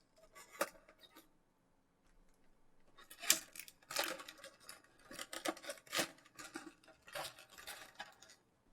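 Sticky tape peeled off anime figure packaging close by, with crackling rips, crinkling plastic and small clicks arriving in irregular bursts, quiet between them.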